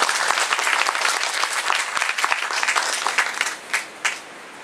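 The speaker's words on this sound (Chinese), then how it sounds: "现在让我们用最热烈的掌声欢迎郭老师来跟我们分享" An audience applauds to welcome Teacher Guo to the stage at a talk on the history of Yongchun Pond, steady dense clapping that holds loud and then thins into a few last scattered claps.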